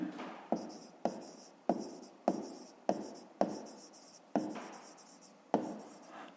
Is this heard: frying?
no